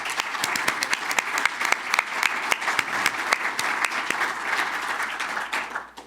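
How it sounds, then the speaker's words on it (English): Steady applause from an audience, dense clapping continuing for several seconds before tapering off at the end. "Let's get a huge round of applause for everybody."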